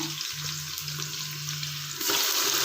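Onions with rock salt sautéing in a pan for Ambur mutton biryani give a close, continuous sizzle over a low hum, swelling noticeably louder and brighter near the end.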